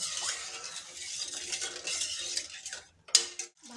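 A spoon stirs agar agar powder into cold milk in a bowl for a mango pudding, making a soft, steady scraping swish with a few sharper clinks against the side near the end.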